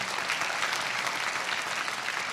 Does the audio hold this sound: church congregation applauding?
yes